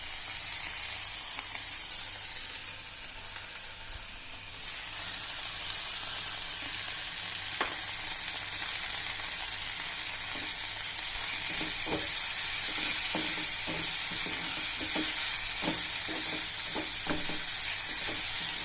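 Spring onion greens and leafy vegetables fry in a pan for green brinjal bharit, giving a steady broadband sizzle with occasional sharp crackles and pops that grow busier toward the end, close up with no talking.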